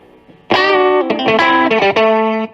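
Electric guitar played through a Vox VX15GT amp on its AC30 model with a touch of spring reverb, mid EQ and just over half gain: a few loud, sustained chords and notes ringing out alone.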